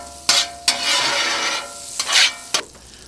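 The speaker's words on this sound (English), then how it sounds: "A little bacon grease, a little butter." Bacon grease and butter sizzle loudly on a hot griddle, a close hissing fry interrupted by several sharp scraping clanks of a spatula stirring the fat.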